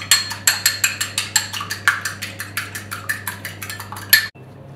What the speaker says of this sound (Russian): Взбиваю яйцо.